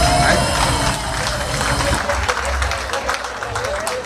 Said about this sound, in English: let's give a round of applause for Daniel and Molly